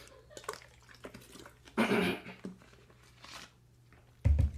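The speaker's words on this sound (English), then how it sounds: "Sorry for gross water gulping noises." A person gulps water close to the microphone, with two separate wet swallowing bursts and quiet breathing between them.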